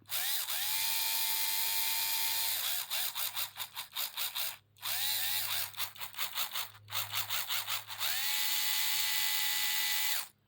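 An upgraded Tyco 440 widepan HO slot car motor whines loudly at high pitch, holding steady runs broken by rapid stuttering throttle blips and two brief cut-offs.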